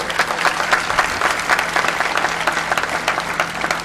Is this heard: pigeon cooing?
no